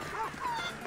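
A dog in Assassin's Creed Odyssey whimpers and yips after being struck, giving brief high whines over game background sound and faint talk.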